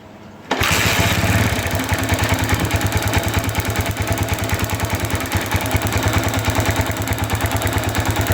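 A motorcycle engine kicks into life abruptly and settles into a steady, rapid putter that keeps running at a constant pace, loud and close.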